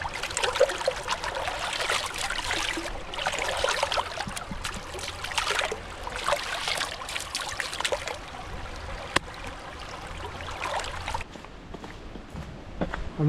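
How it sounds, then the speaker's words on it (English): Dishes are washed by hand in a river, with splashing and trickling water in bursts of sloshing and rinsing over a soft running-stream background, moderately close and with no speech. "Dishes are never fun, but at least they're nice and easy done by the river."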